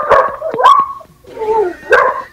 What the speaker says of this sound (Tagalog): Narinig mo yung aso, ingay oh.